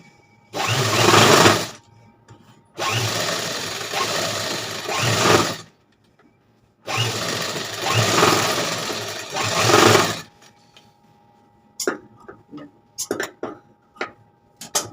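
A sewing machine stitching a blouse seam, running in three close, loud bursts of a few seconds each with short pauses between, then light handling clicks.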